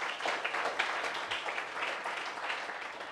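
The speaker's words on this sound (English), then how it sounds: "Yeah, applause, applause, applause." Audience at a coding bootcamp demo day applauding, a fairly faint, steady patter of many hands clapping in a room for a few seconds.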